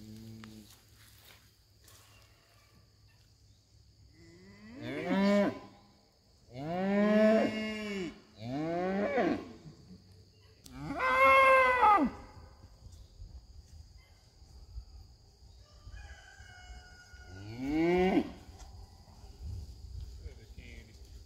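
Dexter cattle moo several times near a pond, long, loud, drawn-out lows from different animals nearby, with quiet outdoor ambience and faint insect sounds between calls.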